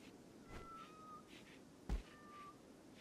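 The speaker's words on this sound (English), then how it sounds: "The cats are eating the head." Cats meowing inside the RimWorld colony-sim game, a few short thin meows spread across a quiet background with one soft thump, fairly faint and with no talk over them.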